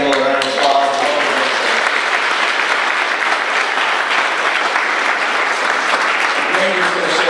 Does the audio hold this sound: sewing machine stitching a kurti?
no